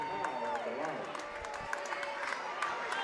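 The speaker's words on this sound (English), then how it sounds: "you hear the Savage crowd" A crowd roars and cheers continuously at a high school sub-regional basketball game between B-Bow and Muldrow, with a commentator talking over the noise.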